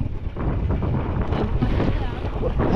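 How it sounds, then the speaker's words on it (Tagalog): A boat engine runs fast on the open sea, a loud, steady roar mixed with wind buffeting and water rush that lasts throughout, with no clear voices. "tingnan nyo andar ng makina, ang tulin."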